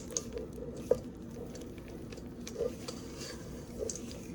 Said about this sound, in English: We're gonna fold the chocolate chips in.